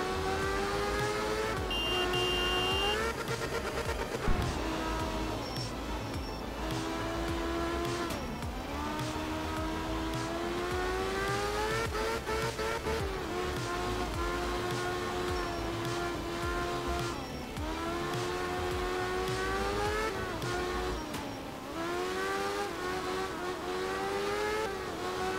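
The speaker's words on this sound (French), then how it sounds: "sans rien d'autre que le bruit de ce rotatif" Rotary-engine rally car driving in Art of Rally, its high-pitched engine wailing steadily and loudly throughout with rising and falling revs as it shifts and accelerates, no music or speech over it.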